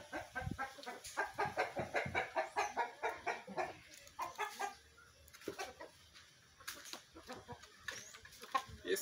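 A giant Polish rooster about a metre tall clucks in a quick, steady run of short bursts, then pauses and clucks again more sparsely, quiet and close with no talking.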